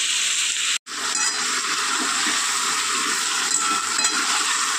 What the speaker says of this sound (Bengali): তেল ছাড়া অবধি কষিয়ে নিই